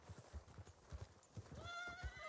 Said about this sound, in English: My horse get real uppity.